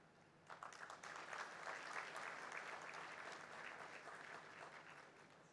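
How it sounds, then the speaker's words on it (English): Sustained applause from an audience at the inaugural session of the 51st NC, many hands clapping steadily and fairly evenly throughout, set back at a moderate distance with no one speaking over it. "everyone clapped, and rightly so."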